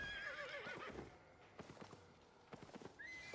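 A horse in the Albion Online video game whinnies loudly, followed by a few quick clopping hoof steps and a second whinny at the end.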